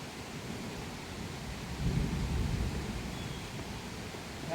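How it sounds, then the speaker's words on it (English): Low, steady rumble of distant thunder with a swelling roll in the middle, over a constant wash of rain-like noise; no voices. "Sounds like thunder."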